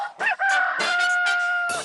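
A rooster lets out a single loud, drawn-out crow up close, starting with a few choppy notes before the long sustained call.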